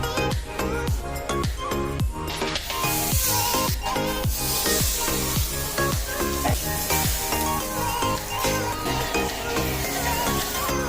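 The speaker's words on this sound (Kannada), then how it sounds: "ಇವಾಗ ಒಂದೊಂದೇ ಫಿಶ್ ಹಾಕ್ತೀನಿ" Fish pieces frying in oil on a hot tawa over a low flame, a steady sizzle running throughout, partly masked by rhythmic background music.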